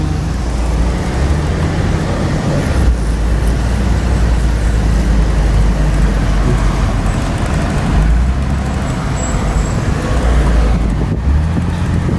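A Jeep Cherokee drives along a road with a loud, steady engine rumble and tire roar from inside the cabin. Wind buffets the microphone, and a couple of brief dips break the constant drone.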